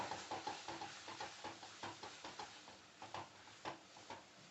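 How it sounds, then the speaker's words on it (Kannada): Sambar powder frying in a pan for tomato curry, a faint sizzle under a run of soft, repeated stirring taps and scrapes at an uneven rhythm. "ಇದು ಚೆನ್ನಾಗಿ ಸ್ವಲ್ಪ ಫ್ರೈ ಮಾಡೋಣ ಪೌಡರು."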